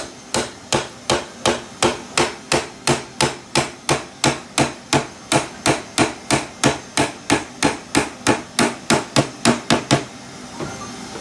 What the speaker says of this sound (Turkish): uygun bir parçayla çekiç yardımıyla